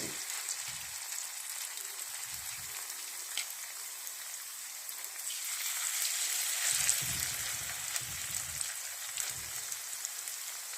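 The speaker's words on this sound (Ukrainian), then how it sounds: "Обсмажуємо на олії з двох сторін до такого золотистого кольору." Pumpkin potato pancakes fry in oil over medium heat, giving a faint, continuous crackling sizzle with occasional soft low thumps and no talking.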